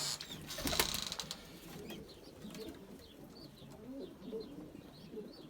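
Young tumbler pigeons coo in a breeding coop, soft repeated throaty calls scattered through the clip, faint and close, with a brief rustling clatter near the start.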